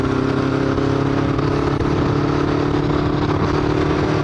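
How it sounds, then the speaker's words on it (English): A motorcycle rides up a parkway, its engine a loud, steady close drone with a constant low rumble and rushing road noise throughout, no voices. "We're actually gonna get this bike up to some highway speeds."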